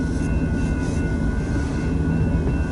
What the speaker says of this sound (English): this Union Pacific train that's trying to head west behind me can do that